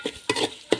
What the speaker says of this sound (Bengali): তারপর আমি নারকেলগুলো একটু ভেজে নেব, পোড়ানো নারকেলগুলো আর কি, তেলের মধ্যে